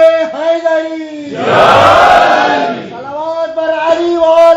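A crowd at a Jashn-e-Wiladat gathering for Imam Ali bursts into a loud, short collective shout answering the Nara-e-Haidari call. The single voice leading the call frames the roar on both sides.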